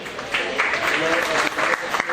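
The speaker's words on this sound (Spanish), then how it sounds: "Le damos un fuerte aplauso." An audience at a talk on a papal exhortation gives strong applause to a visiting priest, a dense, lively round of clapping that stays loud throughout, with a voice faintly audible beneath it.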